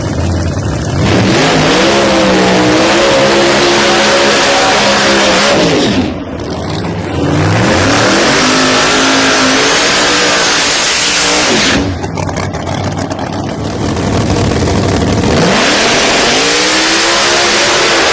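Pro Mod drag cars, a Charger and a Firebird, launch with deafening, sustained engine roars that climb in pitch through gear changes, in repeated full-throttle bursts separated by brief dips.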